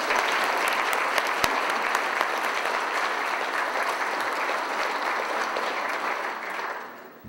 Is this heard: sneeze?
no